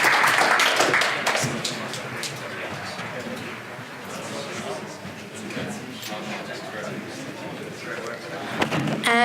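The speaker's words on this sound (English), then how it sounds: "All right, so round of applause for our team." An audience at a student pitch competition applauds a team, clapping that starts loud and continues at a moderate, steady level, with voices mixed in.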